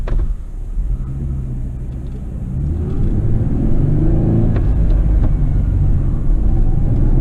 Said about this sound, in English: it's hard for me to get that 1-2 shift nice and smooth